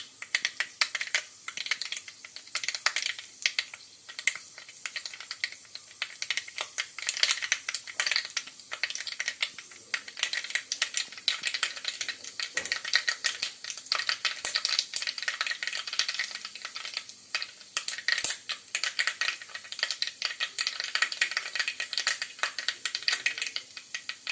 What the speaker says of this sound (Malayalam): ഇപ്പോൾ എണ്ണയിൽ കടുക് പൊട്ടിത്തെറിക്കുന്നുണ്ട്